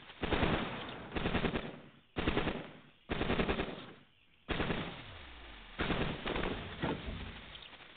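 Bursts of rapid automatic gunfire from the video game Cogmind, loud and dense, coming in several long volleys separated by brief gaps, with no talk.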